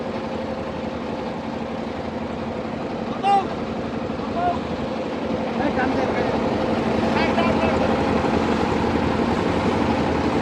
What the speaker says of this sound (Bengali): বড় ট্রলারের সাথে বেঁধে ফেলা হলো আমাদের ছোট ট্রলারটিকে